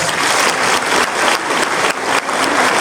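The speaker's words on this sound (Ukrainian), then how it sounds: "Оплески ще раз." Loud, sustained applause from a large audience at a concert in Truskavets, dense steady clapping filling the whole stretch with brief dips in intensity.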